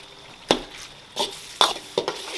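A spatula scrapes a wok in four distinct strokes as spices are stir-fried in hot oil for braised lamb trotters, each stroke close and crisp over a low continuous sizzle.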